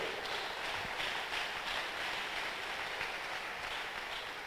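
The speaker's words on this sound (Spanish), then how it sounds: "Denle un aplauso fuerte a Jesús." A church congregation applauding during a sermon, a continuous dense wash of clapping that is fairly faint and steady throughout.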